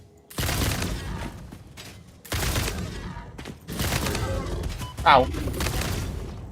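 Smart-bullet gunfire in the video game Satisfactory: three heavy bursts of shots, each a loud, thumping volley followed by a short gap, with a brief voice exclamation near the end.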